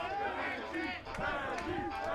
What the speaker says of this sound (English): Actually, that's the student section that is cheering loud, loud, loud for the captain